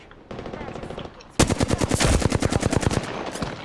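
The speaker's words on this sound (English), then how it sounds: "I'm shooting to get their attention. Shots fired at me." Rapid automatic gunfire in a video game shooter, near and loud, with a quieter stretch of faint shots before a dense burst of evenly spaced rounds lasting about two seconds, followed by lingering noise.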